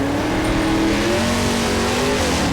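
Car engine revving steadily in Left 4 Dead 2, a loud, sustained motor drone with rising and falling pitch and slight tire noise, continuous throughout with no talking.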